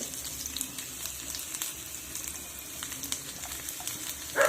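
Onions sizzle steadily in hot oil nearby, a continuous frying hiss with faint crackles and a brief louder clatter at the end.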